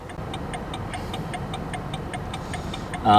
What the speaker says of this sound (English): when you give an indicator to either left or right, it gives you a tick sound